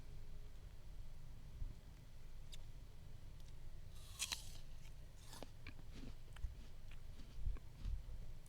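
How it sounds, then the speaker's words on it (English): Close, crisp crunching and biting bursts of someone chewing crunchy food, scattered irregularly over a steady low background hum, with no talking. "I'm chewing on this."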